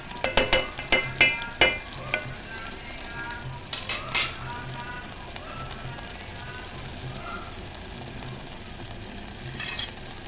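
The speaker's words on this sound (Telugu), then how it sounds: "మధ్య మధ్యలో మళ్ళీ ఆ మూతను తీసి కలిపేసుకుంటున్నాను" Mutton keema curry stirred in a pot after the lid comes off, a burst of scraping utensil strokes at the start and again midway, then a quieter simmering hiss with occasional faint clinks.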